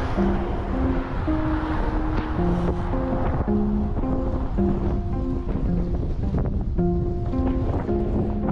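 Wind buffets hard and constantly during a 600 km audax cycling ride, a loud, rough roar filling the whole stretch, with a melodic tune faintly running beneath it.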